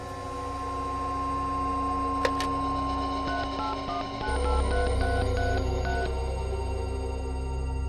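A telephone dials a call, a string of short electronic key tones in an uneven rhythm over a steady hum and low background drone, moderately loud, no talking.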